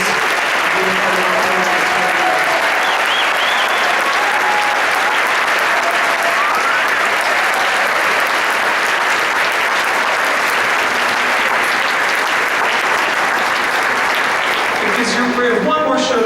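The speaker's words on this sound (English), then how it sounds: "Can we give these folks a round of applause for still supporting us?" A stadium crowd at a marching band review gives a long, sustained wash of applause for band alumni, with faint band tones and scattered voices early on before the clapping fades near the end.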